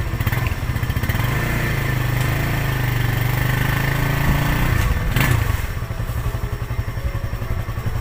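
A motorcycle engine pulls away in first gear on a short road toward a waterfall in Rajabasa: a steady, loud, close chugging drone with a brief rise in revs near the end, no talk.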